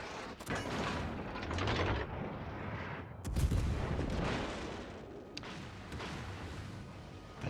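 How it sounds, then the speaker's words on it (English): Heavy naval guns from a cruiser in the World of Warships video game fire in repeated booming salvos, with dense, loud blasts and rumbling echoes rolling over a few seconds. "Let's try to get a couple shots into him real quick."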